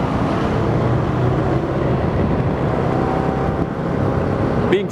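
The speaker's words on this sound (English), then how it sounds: "Being stuck in traffic is pretty normal for this city." Steady city road traffic rumble heard from a TVS Apache motorbike stuck in a jam, a dense, even wash of engines at moderate loudness with no talk.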